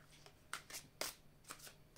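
Angel love oracle cards shuffled by hand: a few sharp riffling bursts and soft card slaps at an uneven pace, close and fairly quiet, with no talking.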